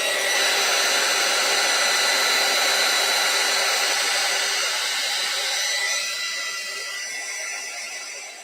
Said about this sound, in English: Let me give it one more shot with the heat gun.